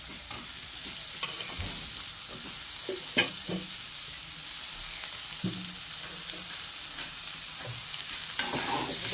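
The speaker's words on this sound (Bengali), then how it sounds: "দিয়ে আমি মশলার সঙ্গে ভালো করে কষিয়ে নেব।" Cut eggplant stir-fried with spices in oil in a pan for a Bengali fish curry with potato, giving a steady sizzle broken by scattered scrapes and knocks of the stirring spoon, with no talking.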